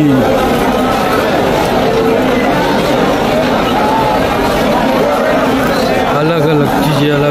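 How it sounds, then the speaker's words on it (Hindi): Dense crowd chatter fills the grounds of Vishnupad Temple in Gaya during shraddha rites, many overlapping voices forming a loud, constant babble close around, with no single voice standing out. "मतलब इतनी भीड़ है क्या बताऊँ"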